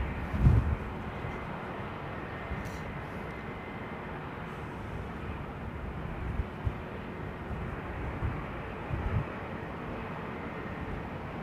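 An ATR turboprop at London Heathrow, with a popping misfire on its number 4 engine, makes a steady, distant, broad rumble. A few low thumps break through the drone every few seconds.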